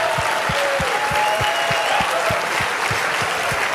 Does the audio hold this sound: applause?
yes